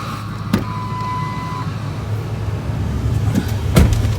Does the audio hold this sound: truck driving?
yes